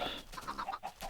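Chickens in a farming video game cluck in a quick, uneven series of short calls, faint and close, with no talk over them.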